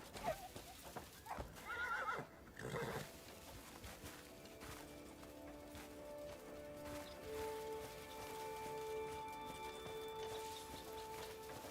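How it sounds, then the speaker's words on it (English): A wild horse in the video game Crimson Desert neighs loudly early on, followed by clip-clop hooves and quieter game ambience with a steady musical tone, no talk. "Oh, there's a horse over there."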